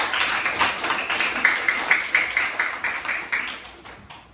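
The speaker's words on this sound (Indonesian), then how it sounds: "Tepuk tangan dulu untuk kalian semua." Students in a classroom clap together in a steady, rhythmic unison pattern of sharp, evenly spaced claps, close and fairly loud, with faint voices underneath.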